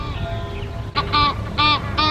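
Loud honking, quacking calls from a duck or goose near the water arrive in three or four harsh bursts over a steady outdoor background.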